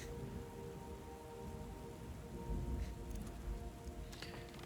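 Storm and rain in the video game Book of Hours: steady, dense rainfall with a low rumble of thunder swelling in the middle, under a faint sustained musical tone.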